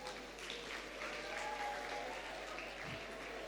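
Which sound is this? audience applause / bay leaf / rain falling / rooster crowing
audience applause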